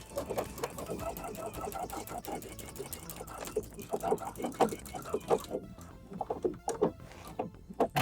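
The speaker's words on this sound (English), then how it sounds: "So now I have both of the sides of the skirt sewn up and the facing pieces." A sewing machine stitches the side seam of a skirt with a facing, a fast close rhythmic run of needle clicks that keeps going throughout, then stops briefly and starts again.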